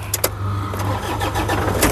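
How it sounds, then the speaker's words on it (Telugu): A 2009 Toyota Innova 2.4 engine cranks briefly and catches, settling into a steady, close idle hum. "సింగిల్ సెల్ఫ్లో కార్ స్టార్ట్ అవుతుంది"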